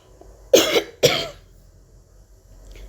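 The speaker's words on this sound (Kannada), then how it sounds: "ಕೆಮ್ಮು ಸ್ಟಾರ್ಟ್ ಆಗುತ್ತೆ" Two quick, forceful coughs close together, followed by quiet room sound.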